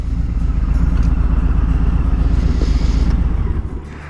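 A brand-new Harley-Davidson motorcycle idles close by with a deep, steady, loping rumble and mechanical clatter, which eases off and settles near the end as the bike is worked into neutral.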